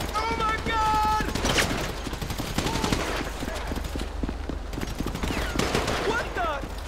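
Gunfire during a shootout in GTA V: dense bursts of rapid automatic fire and scattered single shots, loud and close, running continuously alongside shouting voices.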